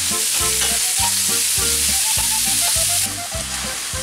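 Bolognese sauce fries in a pan with a loud, steady hiss and crackling spatter that lasts throughout, while a rhythmic beat of music plays underneath.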